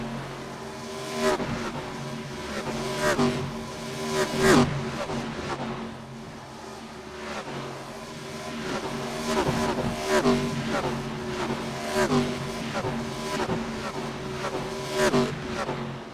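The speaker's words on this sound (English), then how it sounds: "The beautiful sounds of the cars going by." NASCAR race car engines in iRacing at Auto Club roar and whine, surging loudly as cars pass one after another in repeated waves, with a voice faintly underneath.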